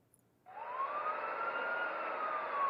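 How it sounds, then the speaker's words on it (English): A siren approaches in the video game Later Daters, a single rising wail that swells in and holds steady, growing slightly louder, with no talking. "You hear a siren approach."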